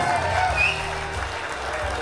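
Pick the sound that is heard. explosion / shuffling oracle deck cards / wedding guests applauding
wedding guests applauding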